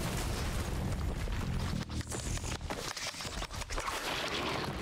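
Loud burst from an exploding enemy in the video game Risk of Rain 2, a dense roaring blast with crackling pops that stays heavy through the whole stretch amid busy game noise.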